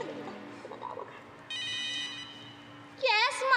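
A telephone rings in a Filipino TV drama scene, with electronic ring bursts in short trills that come and go, partly under people talking nearby.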